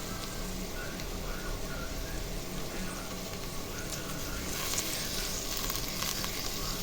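Onions sauté in ghee in a pan for biryani with a steady, even sizzle that crackles continuously and fills the space, with no one speaking.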